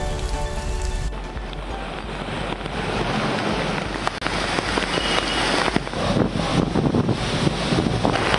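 Heavy rain pours steadily in Chennai, a dense, continuous hiss of drops drumming on surfaces with gusts of wind buffeting the microphone, loud and close throughout with no voices.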